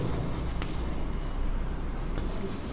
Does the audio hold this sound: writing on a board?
yes